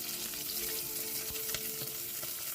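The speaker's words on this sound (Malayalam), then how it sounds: "ചതച്ച് വച്ചിരിക്കുന്ന വെളുത്തുള്ളിയും ഇഞ്ചിയും ആഡ് ചെയ്യുക. നല്ലപോലെ വഴറ്റുക." Crushed garlic, ginger and green chilli sauté in hot oil in a pan for a salmon fish curry, sizzling steadily up close with occasional stirring scrapes.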